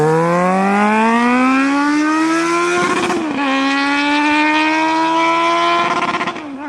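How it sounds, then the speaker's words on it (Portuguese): A loud, high-pitched engine whine rises steadily in pitch, dips briefly twice as if shifting, then climbs again; continuous and close, with no voices. "ele ouve o som do motor da moto"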